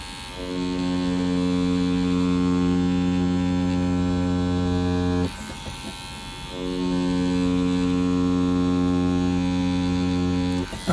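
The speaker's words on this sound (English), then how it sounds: "I'll swap out for the AKA standard machine. This is 14 needles we're pushing." An AKA standard tattoo machine pushing a 14-needle grouping runs with a steady loud electric buzz, stops briefly midway, then starts again, close with no voices.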